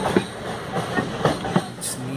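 A passenger train travels the Goa to Hyderabad line near the Dudhsagar waterfalls. A loud, close rumble carries a regular clickety-clack of wheels over rail joints, roughly three beats in two seconds.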